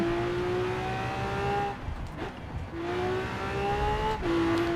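Lamborghini Veneno in Forza Horizon 4 revving hard, rising engine tones climbing, dipping briefly, then surging again with a brief squeal, loud and close with no talk.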